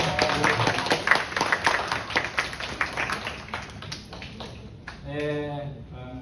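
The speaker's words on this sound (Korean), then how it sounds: "응원하는 의미에서 박수 한번 칩시다." A middle-school church youth group claps to cheer on classmates entering a contest, a burst of brisk hand claps in a room that tapers off, followed by a person starting to speak.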